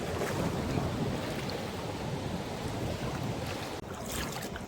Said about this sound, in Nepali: समुद्र यही छ